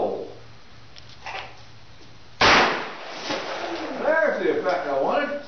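A shot from a Ruger Blackhawk revolver firing a 180-grain flat point round at a steel target 50 yards away on an outdoor range: one sharp, loud report midway, its ringing decay followed by talk and laughter.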